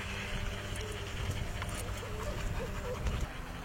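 A dog that is aggressive toward other dogs whimpers and lets out small yips over a constant rough background noise, the sounds coming and going across a few seconds.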